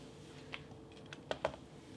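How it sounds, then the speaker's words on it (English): Scissors snip the trimmed ends of a beaded bracelet cord, giving a few quick, faint, close-up clicks spaced apart over a quiet background. "I'm just going to trim my ends with some scissors."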